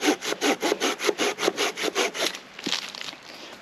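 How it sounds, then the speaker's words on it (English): A Bahco Laplander folding saw cuts through wood outdoors in fast, rhythmic back-and-forth strokes, about a dozen close raspy pulls, then slows to a few softer scrapes as the cut finishes. "Currently using the Barco Laplander"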